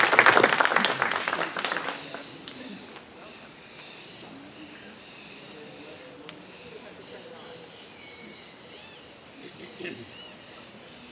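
An indoor audience at a sustainable living talk applauds loudly for about two seconds to welcome a speaker, then the clapping fades to scattered claps and quiet room noise.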